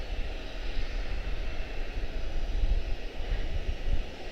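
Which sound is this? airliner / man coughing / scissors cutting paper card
airliner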